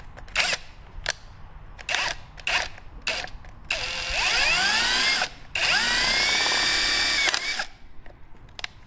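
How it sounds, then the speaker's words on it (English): A power drill with a 1/8-inch bit whirs in short bursts, then runs in two longer sustained stretches with rising pitch as it bites through metal on an old Ford tractor, loud and close. "It requires an 1/8 inch drill bit"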